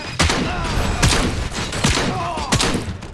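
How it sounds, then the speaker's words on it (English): A man explodes in Robocop Rogue City, sharp thudding bursts punctuating the game's soundscape, several hard impacts spaced across a few seconds amid combat noise. "I don't know why that man exploded"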